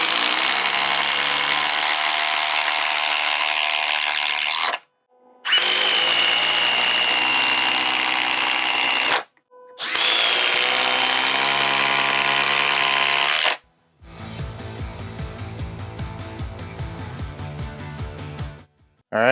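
A DeWalt power drill drives 6-inch TimberLok screws into timber, with three long, steady whining runs of several seconds each separated by short pauses, then a rougher, lower-pitched juddering run at the end.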